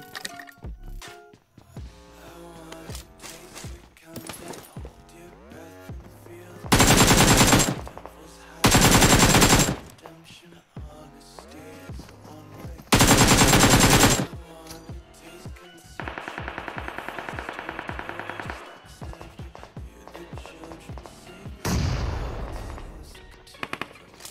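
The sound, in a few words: gunfire in a video game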